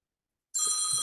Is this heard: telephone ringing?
yes